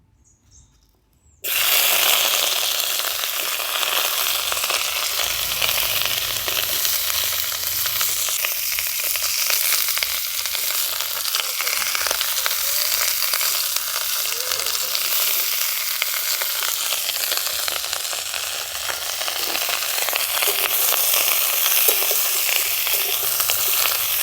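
Vegetables frying in hot mustard oil in a wok, a loud, steady sizzle that bursts in after a brief quiet start and crackles continuously up close with occasional stirring.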